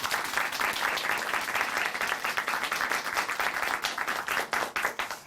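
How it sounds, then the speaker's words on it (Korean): A church audience breaks into hearty applause, a thick continuous roar of clapping that holds steady before individual claps grow more distinct and rhythmic near the end. "다시 한번 큰 박수 보내드릴게요."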